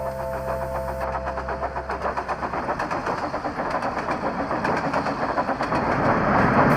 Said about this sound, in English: the blue tank engine puffed wearily in